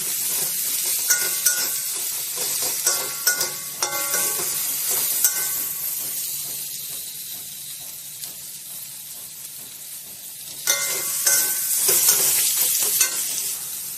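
Spice masala for chicken curry, salted and fried in oil in a pan, sizzles continuously up close while a spatula stirs and scrapes in repeated bursts, with louder surges near the start and end and no voices.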